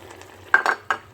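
Spoon stirring against a pan as mushrooms go into pork jungle curry, with three clear scraping knocks over a faint sizzle and no talking.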